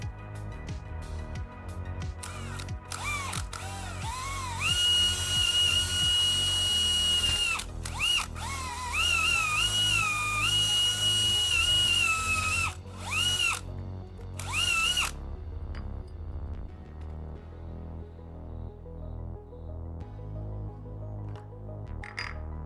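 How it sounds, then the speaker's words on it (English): An electric drill whines in several bursts, its pitch rising and holding as it bites in, close and loud, then spins down to quiet, drilling wire holes in an old RO pump motor housing. "I need to drill holes for the wires."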